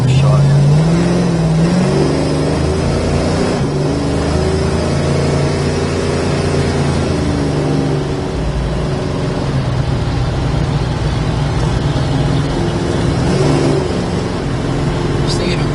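1972 Plymouth Duster with a 340 V8, driven on a wet road, its engine rising in pitch as it revs and accelerates through the gears, loud and close, with someone talking over it.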